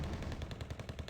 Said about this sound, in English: we're going to be able to hit them with our cannons